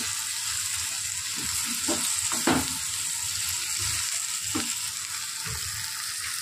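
Two spoons of red chili powder fry in a pan for a Hyderabadi lunch dish, giving a steady, moderate sizzle, and a few stirring scrapes and taps come through along the way.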